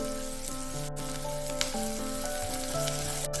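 Ginger garlic paste frying with onions in a pan for an Assamese fish-head and moong dal dish, producing a steady, close sizzle throughout with sustained melodic tones running underneath.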